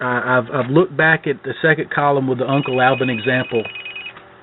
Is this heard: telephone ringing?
yes